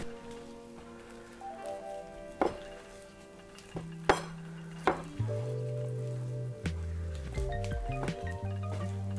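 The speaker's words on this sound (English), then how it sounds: "just whisk very well until everything is combined" A whisk beats chocolate donut batter in a bowl, producing rapid metallic scraping with several sharp clanks against the bowl rim over a low steady hum, close and moderately quiet.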